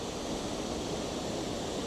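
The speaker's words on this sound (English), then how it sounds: "You have this cool little waterfall," A small waterfall beside a church in Spain gives a steady, even rush of falling water, a soft continuous wash with no talk over it.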